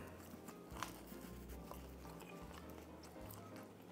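Teeth biting into crunchy home-oven pizza crust, a quiet cluster of close, dry crackles and chewing over a few seconds, with low background hum and no talking.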